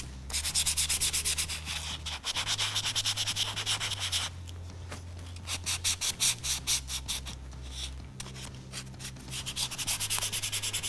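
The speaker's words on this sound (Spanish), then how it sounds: "vamos a volver a utilizar nuestra lija 320 y volvemos a lijar" Rhythmic back-and-forth rubbing of 320-grit sandpaper on a painted light-switch cover frame, steady strokes in bursts with short pauses, close and continuous.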